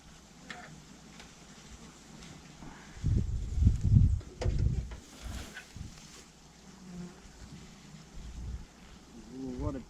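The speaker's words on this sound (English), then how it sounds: "what a beautiful noise this is. Okay, let's see what you're doing, little bees." Honeybees buzz at a hive with a newly arrived swarm, a steady close drone with louder swells as a person leans in and talks softly over it.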